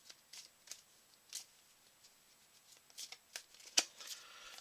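Quiet close-up handling of board-game cards for The 7th Continent, with soft riffling, sliding and tapping sounds in scattered bursts, no talking.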